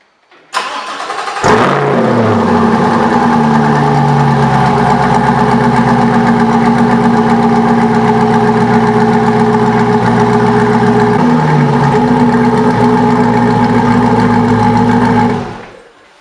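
A C8 Corvette fitted with a new aftermarket exhaust system starts with a sharp bark and rev, then settles into a loud, steady, deep idle close by, with a small dip partway through before cutting off near the end.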